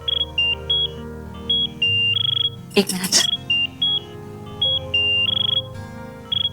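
A phone rings with a repeating, bright electronic tune in short bursts, heard over a low indoor hum. Someone briefly speaks partway through.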